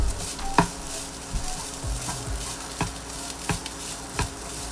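Pineapple fried rice stir-fried in a pan after black pepper and Chinese five spice go in, with a soft steady sizzle and scattered sharp spatula knocks and scrapes against the pan, close and moderate in level.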